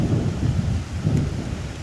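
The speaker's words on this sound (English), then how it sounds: "there was just some really loud thunder" Loud thunder from a passing storm rolls as a deep, continuous low rumble that swells and fades twice, heard alone without any voices.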